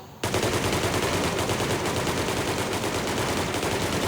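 Video game gunfire, a sustained burst of rapid automatic shots that starts abruptly and hammers on loud and continuous to the end.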